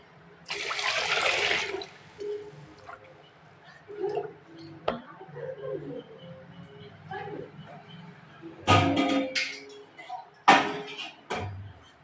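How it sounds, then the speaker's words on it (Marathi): Rice grains are washed in water with short splashing, swirling bursts near the start and again toward the end, separated by quieter stretches of handling. "दोनदा धुवून घेतो धुवून घेतले तांदूळ"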